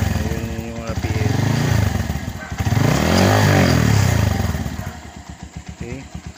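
A Motor Star Cafe 150 V2 motorcycle engine starts and revs, swelling to a loud, steady roar midway before dropping back to a rough idle, heard close up with a voice talking over it.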